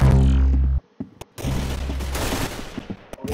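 Bursts of golden-gun fire in a Roblox shooter, several sharp loud shots cracking close over game music, with a brief gap before a dense rapid volley.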